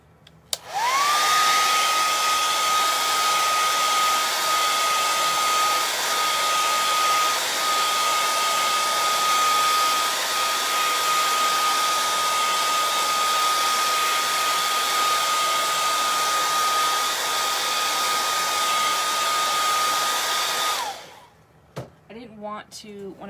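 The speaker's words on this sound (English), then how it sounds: "Now, I might take the hairdryer to that" A hair dryer roars steadily at close range for about twenty seconds, with a constant whine, then cuts off abruptly, leaving brief handling noises.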